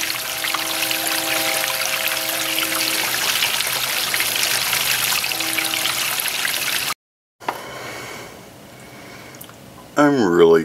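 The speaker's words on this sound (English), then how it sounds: "We'll flush this a couple times," Water pours and rushes steadily into a travel trailer's black water tank during a flush, a loud continuous gush that breaks off abruptly, then resumes more quietly with a burst of other noise at the end.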